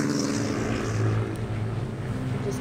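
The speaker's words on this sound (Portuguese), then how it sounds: "Agora vamos voar de avião." A propeller airplane flies in the My Talking Tom 2 mobile game, a steady, loud engine drone with a rough buzzing texture that holds throughout, with no talking.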